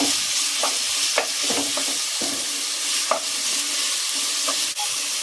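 Chicken frying in a pan for a Kerala-style salad, with a strong, steady sizzle and a few soft stirring scrapes and knocks, close up and with no talking.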